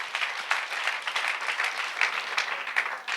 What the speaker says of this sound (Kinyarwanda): Reka dukomere amashyi umwami.